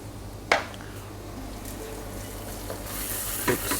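Whole spices, star anise, bay leaves, cumin and coriander seeds with black pepper, sizzle in hot oil as they are quickly stirred, with a couple of sharp utensil knocks against the pan over a soft frying hiss.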